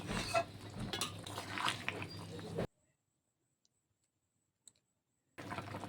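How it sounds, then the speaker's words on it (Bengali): Shukto curry of eggplant, bitter gourd and bori stirred in a pan: a close, busy scrape and clatter of spoon against metal, which stops dead for a few seconds of silence and then starts again. "বড়ি আর বেগুন উচ্ছে দিয়ে আবারও একটু নেড়ে চেড়ে তরকারিটিকে আমি আরও কিছুক্ষণ রান্না করে নেব।"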